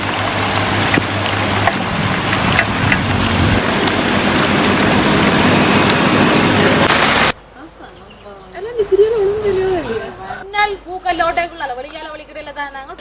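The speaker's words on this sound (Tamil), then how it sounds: "முல்லைத்தீவு மாவட்டத்தில் தொடர்ச்சியாக பெய்து வரும் பலத்த மழை காரணமாக தாழ்நில பகுதிகள் பலவும் நீரில் மூழ்கியுள்ளன." Heavy continuous rain falls in Mullaitivu district, a loud, dense, steady roar of downpour lasting about seven seconds before it cuts off abruptly and a person speaks.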